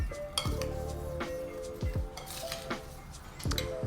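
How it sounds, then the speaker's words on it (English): Berries being mixed with lemon juice in a bowl, with a spoon scraping and clinking against the dish in a few gentle, irregular strokes, close and moderately loud. "We're going to add the lemon juice and we're going to mix it all up"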